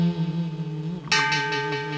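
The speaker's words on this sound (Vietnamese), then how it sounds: "nghe vang vọng tiếng chuông" A temple bell strikes once, loud and close, and rings on with a shimmering decay over a sustained sung or chanted tone during a Vietnamese spirit-mediumship ritual.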